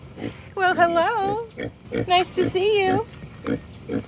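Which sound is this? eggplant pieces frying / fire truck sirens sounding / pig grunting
pig grunting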